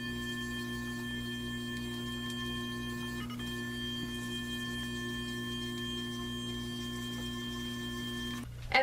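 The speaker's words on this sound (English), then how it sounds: "Then I take my Clarisonic Mia 2, get the brush head a little bit wet" A Clarisonic Mia 2 facial cleansing brush running with a wet brush head, a steady electric buzz with a constant tonal hum lasting several seconds before cutting off abruptly near the end.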